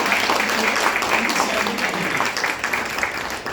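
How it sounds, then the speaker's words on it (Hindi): Doctors and nurses seated at a Hindi language evening event give a doctor a round of applause, a full sustained clapping from the hall with a faint voice underneath. "एक बार जोरदार तालियां डॉक्टर साहब के लिए होनी चाहिए"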